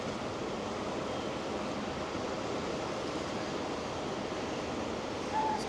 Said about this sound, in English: There's a waterfall in the back, and this river is so fast flowing.